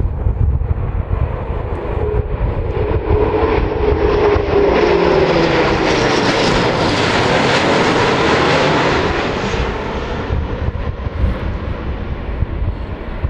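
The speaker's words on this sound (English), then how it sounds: "we had a bit of a low fly pass from the RAF" A low-flying RAF military jet nicknamed the Growler passes overhead, a loud, sustained roar that swells to a peak midway and then slowly fades as it moves away, with no talking.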